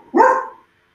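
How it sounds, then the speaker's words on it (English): A pet dog gives one short, loud, close bark, and quiet follows. "I hear a dog. That's my dog."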